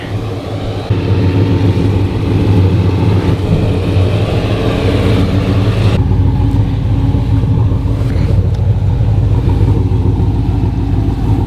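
An LS V8-swapped Volvo 940 wagon runs with a loud, continuous rumble, the engine note shifting slightly and rising as it pulls away, heard up close with no talking.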